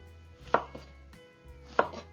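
A knife thinly slices cabbage on a cutting board, giving two crisp close chops with faint softer cuts between them, alone and fairly quiet.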